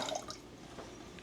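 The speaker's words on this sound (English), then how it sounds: "Tiny bit of water" A tiny bit of water trickles into a nearly empty glass jar of pizza sauce, a faint, brief splash and drip, quiet and close with no talk.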